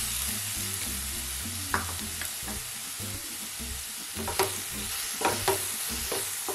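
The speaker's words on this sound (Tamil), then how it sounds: "வெங்காயம் நல்லா வதங்கட்டும்." Sliced onions sauté with ginger garlic paste in a pan, giving a close steady sizzle broken by repeated scraping stirs from a spatula, some sharper and louder in the second half.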